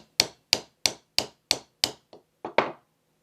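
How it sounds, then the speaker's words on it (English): A hammer taps a starter punch to seat a pin in a Walther PPQ pistol frame: eight sharp, close metallic taps at an even pace, with a shorter one before the last, and no talking. "grab a starter punch and hammer real quick just to get this guy started"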